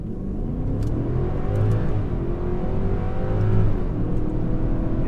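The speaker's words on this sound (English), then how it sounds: "But I will just go ahead and do a 0-60 real quick." A 2009 Infiniti FX50S V8 luxury SUV on 21-inch wheels accelerates hard from a standstill toward 60 mph, its engine rising in pitch through gear changes as a loud, steady rumbling roar with no talk over it.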